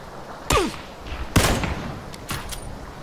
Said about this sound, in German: Schuss kam von da.